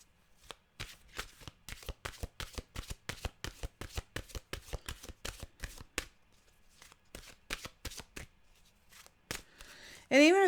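Mantra cards are shuffled by hand in a quiet room, a long run of crisp rhythmic riffles and slaps, close and distinct, ending abruptly.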